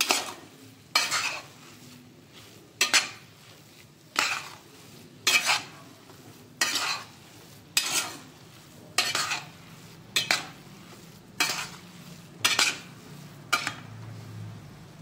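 Mung dal roasting in ghee is stirred in a pan with a spoon, giving about a dozen regular scraping strokes roughly every 1.2 seconds, close and clear over a faint sizzle.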